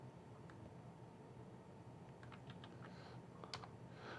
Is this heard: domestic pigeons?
no